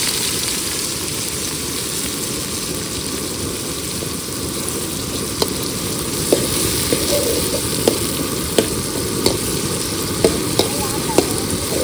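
Onion and tomato sauté in ghee for a village quail fry, a steady close sizzle with occasional sharp clicks of a spoon stirring against the pan.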